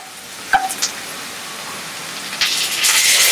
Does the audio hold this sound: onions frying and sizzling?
yes